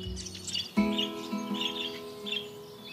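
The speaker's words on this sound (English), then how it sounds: "When Ada was 12 years old, she'd sit in the garden with Mrs. Puff and watch the birds." Small garden birds chirp and tweet in short bright calls, a few overlapping, over a steady background hum with a brief thump partway through and no one talking.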